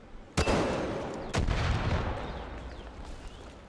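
Sniper rifle shots in the game Far Cry 5: two loud, sharp reports about a second apart, each followed by a long rumbling echo that fades away, with no talking.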